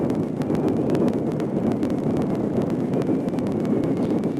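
Wind roars and buffets steadily across the microphone ahead of a hurricane in Eleuthera, Bahamas, a broad rushing noise with occasional gusty rumbles and no voices.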